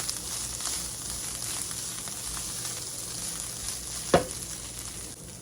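Spiced keema mince fries in a pan with a steady, moderate sizzle, broken once by a brief scrape or clatter of stirring near the end, no voices.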